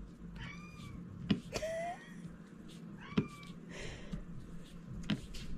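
A kitten meows and cries indoors, several short high plaintive calls spread across the stretch, fairly faint over quiet room tone with a few small knocks.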